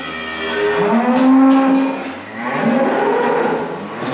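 A heifer moos twice, two long loud low calls close by on a farm, the first rising and holding, the second after a short pause.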